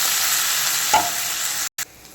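Steady, loud sizzling of onions and chopped carrots frying in a pan for carrot poriyal, with a brief scrape of stirring, then a sudden cut to quieter sizzle.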